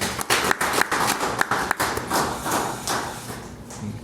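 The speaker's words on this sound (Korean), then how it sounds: "우리 박수로 맞이하겠습니다" Church congregation clapping during a New Year's Sunday worship service to welcome newly elected elders, a spread of close, uneven claps and taps that thin out toward the end.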